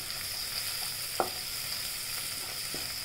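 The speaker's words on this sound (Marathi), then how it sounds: "तेलात आपण कांदा, हिरवी मिरची, लसूण आणि कढीपत्ता टाकून असं परतून घेतलं।" Onion, green chilli, garlic, curry leaves and turmeric sizzle steadily in hot oil for a navalkol (kohlrabi) bhaji, a constant close frying hiss with a few faint scrapes of stirring.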